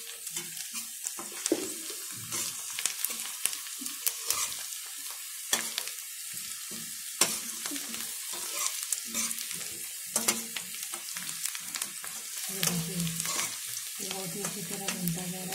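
Green chilies sizzle and spit in hot oil over a full flame, a close, busy frying hiss with occasional stirring scrapes, no talk.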